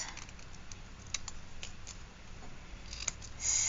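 Small Tim Holtz scissors cut out a paper flower in a craft project, giving a string of light, crisp snips and clicks close by, with a louder burst of cutting near the end.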